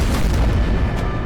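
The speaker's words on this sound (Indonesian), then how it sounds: "terdengar suara dentuman yang menutup akses" A deep, loud boom rumbles as the entrance to an ancient prehistoric ruin slams shut, a dense low-heavy blast that fills the short moment without any voices.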